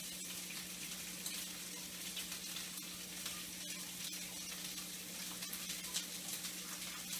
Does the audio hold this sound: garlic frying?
yes